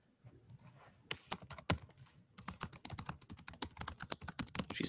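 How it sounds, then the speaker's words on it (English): Someone types on a computer keyboard, a close run of quick, uneven key clicks that start hesitantly and then speed into a steady patter, with no voices. "She's typing."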